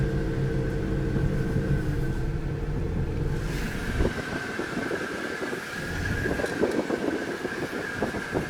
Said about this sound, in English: Water, folks, water.